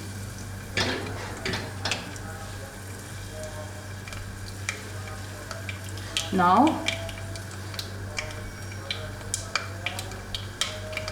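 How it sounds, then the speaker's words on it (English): Spices crackling and popping in hot oil with asafoetida for masala khichdi, steady faint sizzling broken by sharp pops, with one longer hiss and a brief spoken word. "do you hear the popping sounds?"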